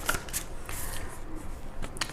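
Tarot cards are handled and shuffled in a short, close flurry of soft riffling and flicking card sounds over a quiet background.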